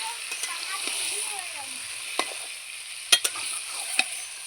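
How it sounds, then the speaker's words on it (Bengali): Whole garam masala and cumin seeds sizzling in hot oil in a pan over a wood-fired stove, a steady close frying hiss broken by a few sharp pops and clinks of a stirring utensil. "তেল গরম হলে গোটা গরম মশলা আর হচ্ছে গোটা জিরে দিয়ে দিলাম।"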